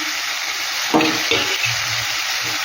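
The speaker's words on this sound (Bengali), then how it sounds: "মশলাটা কিন্তু আমার ভালো মতন কষানো হয়ে গেছে এবার মাছগুলো আর আলু বেগুনটা আমি দিয়ে দিচ্ছি" Mourala fish with potato and eggplant going into a pan of well-fried spice paste, giving a steady close sizzle with a burst of spattering as the pieces drop in, then quieter frying and stirring.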